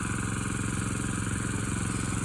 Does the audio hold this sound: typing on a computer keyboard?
no